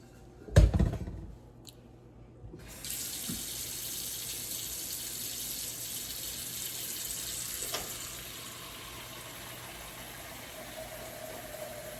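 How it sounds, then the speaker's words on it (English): A brief clatter gives way to a steady rush of running tap water filling a pot for pasta, continuing evenly for several seconds at close range. "We're about to fill this up with some water."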